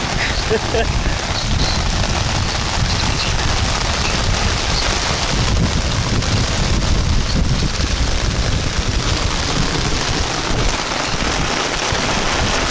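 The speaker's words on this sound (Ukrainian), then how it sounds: "Вітер, дощ." Loud, steady wind buffeting the microphone along with heavy rain pouring down during fishing outdoors, a continuous roaring storm with no pauses.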